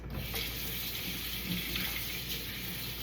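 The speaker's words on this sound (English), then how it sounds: "Let me give my hands a quick rinse." Kitchen tap water running steadily while hands are rinsed under it, a constant close hiss of flowing water with no pauses.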